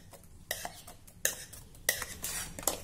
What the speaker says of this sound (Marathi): इथे कढईमध्ये ही चटणी घालूया